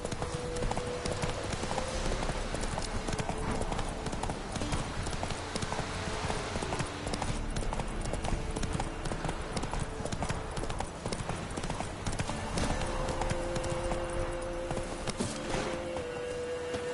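Roach the horse gallops in The Witcher 3, a steady rapid clip-clop of hooves running on without pause, joined by a soft tonal game sound in the background.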